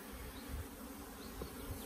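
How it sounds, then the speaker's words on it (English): Honeybee drones fly around the hives of drone colonies, making a constant thick buzzing drone with occasional louder passes near the listener, and no voices are heard. "There's loads of drones flying."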